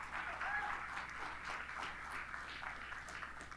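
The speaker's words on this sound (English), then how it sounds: "Give yourselves a round of applause, yes." Seminar audience applauds itself, a faint, distant patter of many hands clapping that holds steady across the whole stretch, quiet and slightly muffled.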